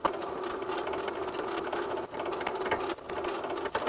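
A sewing machine stitching pieces of old jeans together, running in a continuous fast mechanical whir with a couple of brief pauses, close and fairly quiet.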